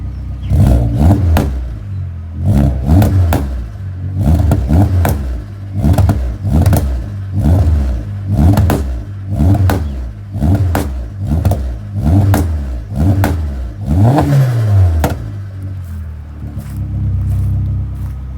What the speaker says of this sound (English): the colder days are perfect for a little bit more exhaust popping and banging